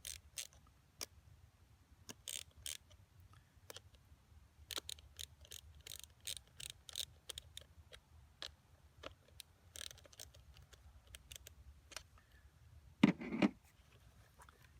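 Small metallic clicks and ticks from a bolt and nut being tightened on a direct-mount snowshoe binding, scattered irregularly at close range and fairly quiet, with one sharper, louder clack near the end.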